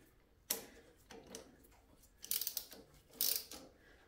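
An adjuster screw being turned on the steering box of a Ford 8N tractor, a few sparse metallic clicks and short ratchety scrapes, close and fairly quiet, with gaps between them.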